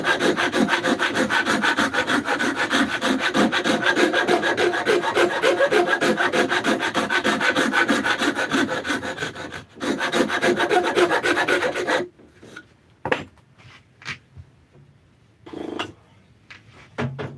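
Steady wood rasping and filing on a wooden cobbler's hammer handle, close and continuous back-and-forth strokes for most of the span, then sparse short scrapes and knocks with quiet gaps.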